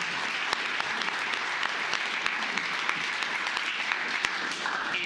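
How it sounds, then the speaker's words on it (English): Steady applause from a crowd at a commissioners court meeting, dense clapping with a few sharper claps standing out, continuous and fairly loud throughout. "Yeah, that's worth a round of applause."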